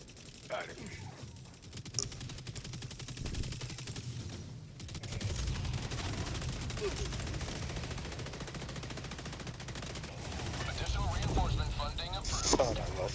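In the game Helldivers 2, an enemy rocket salvo and heavy gunfire rattle in dense rapid bursts over a constant rumbling background, loud and sustained across the whole stretch, with a player's voice talking over it.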